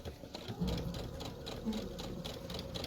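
A sewing machine stitches an accordion pouch with a quiet, steady, rapid mechanical chatter that runs through the whole clip, close by and with no voices over it.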